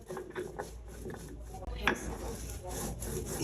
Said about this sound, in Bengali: তো চাপা শুটকিটাকে একদম ফিনিশ করে বেটে নিবে।